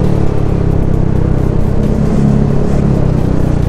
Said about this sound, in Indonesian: Asli enakan nih pakai knalpot standar racing Proliner.